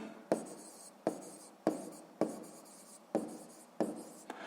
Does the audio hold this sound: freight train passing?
no